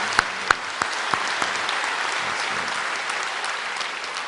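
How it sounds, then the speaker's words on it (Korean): A church congregation claps to welcome a visiting missionary couple during a Sunday service, starting with a few sharp, distinct claps and quickly swelling into steady, even applause that fills the room. "예, 박수로 환영하겠습니다."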